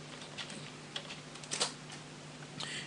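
A name is typed on a computer keyboard: soft, irregular key clicks at close range against a quiet background hum.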